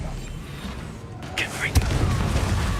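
An Expelliarmus spell cast in Hogwarts Legacy gives a short whooshing burst and then one sharp thump, set against a steady game background.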